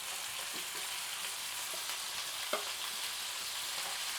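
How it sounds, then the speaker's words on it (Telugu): Country chicken pieces fry in a hot pan, a steady bright sizzle with occasional stirring scrapes and soft pops, close and continuous with no talking. "నాటుకోడి చికెను వేసుకుంటున్నా."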